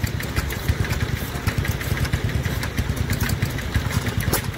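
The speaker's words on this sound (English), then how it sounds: "I know you all like a hit and miss. Arm and Co. 4 horsepower." An Armco 4 horsepower hit-and-miss stationary engine runs at a rally, giving a steady, close, chugging rhythm of rapid low thumps with no pauses.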